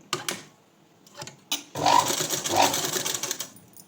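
Sewing machine top stitching along thread piping, first a few short stitch bursts, then a steady run of nearly two seconds, close and alone.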